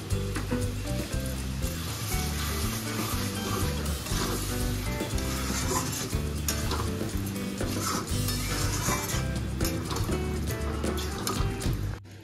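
Liver with sour yogurt stir-fries in a pan for a Bengali-style liver fry, a dense, continuous sizzle and bubbling that stays loud and steady throughout, with no talking.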